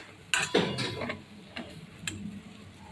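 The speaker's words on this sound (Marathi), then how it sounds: "हे व्यवस्थित मिक्स करून घेऊ।" Spoon scraping and knocking in a pan while stirring gram flour into spring onion zunka, a few sharp clinks and scrapes spaced irregularly over a quiet kitchen background.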